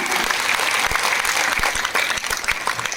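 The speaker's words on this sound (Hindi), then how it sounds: "एक बार जोरदार अपने तालियां बजाकर मुझे बताएं कि आप लोग साथ हैं" An audience at a Hindu Mahasabha community meeting claps steadily, a dense patter of applause filling the whole stretch without a break.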